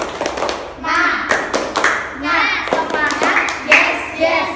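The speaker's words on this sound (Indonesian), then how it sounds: "Tepuk semangat." A primary-school class performs the rhythmic tepuk semangat spirit clap, sharp bursts of hand claps in quick patterned groups mixed with children's voices chanting along, close and lively.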